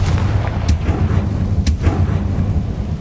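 Confringo fire-blast spell from the PS5 game Hogwarts Legacy, heavy low booming rumble throughout with two sharp bright blasts cracking through, loud and close with no talk.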